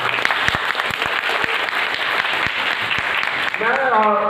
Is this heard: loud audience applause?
yes